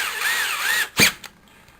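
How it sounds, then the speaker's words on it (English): A power drill fitted with a 9/64 bit bores into a Baofeng radio microphone housing: a loud, close, rising-and-falling motor whine, then a sharp mechanical clunk, a small click and near quiet. "Pick out an appropriately sized drill. Yeah, that size. 9/64. This is going to be really loud, and I apologize."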